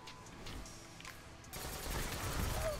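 Faint gunfire from a Monte Carlo auto rifle in the Destiny video game, a quiet stretch giving way to a denser, louder rush of rapid shots in the second half, with no talking.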